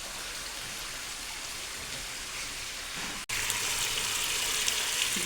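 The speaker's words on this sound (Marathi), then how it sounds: "पाणी चालू आहे माझ्या" Steady rushing of water from a tap, a constant close hiss that cuts out for a moment and then resumes a little louder.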